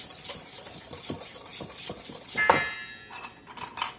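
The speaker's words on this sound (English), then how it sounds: "I'm going to mix this cornmeal up with this flour" Cornmeal and flour are stirred together in a bowl: soft repeated scraping strokes of a utensil, then a bright ringing clink against the bowl and a few lighter taps.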